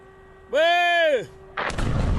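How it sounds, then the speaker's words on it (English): Near a barge landing on the Danube by Orlivka, on the Ukrainian bank, a loud tonal whine swells and fades, then a drone explodes in a sudden, heavy blast that rolls on to the end. "We can see the explosion of the drone right there."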